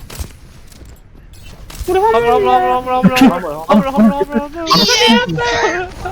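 Bursts of gunfire in the Overwatch shooter game on the Gibraltar map crackle in short volleys beneath excited, overlapping player chatter that dominates most of the stretch.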